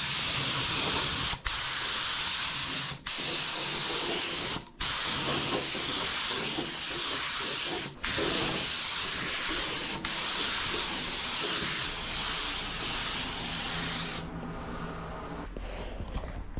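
Spray gun hisses out a base coat onto a VW Transporter T4 wing in long, loud, continuous bursts broken by brief pauses, close to the microphone, before fading away near the end.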